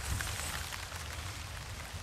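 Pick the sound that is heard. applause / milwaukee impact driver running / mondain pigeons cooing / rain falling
rain falling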